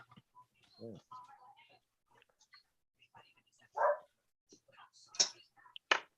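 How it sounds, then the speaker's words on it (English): Dogs in a home living room bark and yip a few times, wanting supper, sharp short bursts scattered among quiet pauses and faint indoor sounds, with low voices talking nearby. "somebody's in the living room barking at me wanting supper."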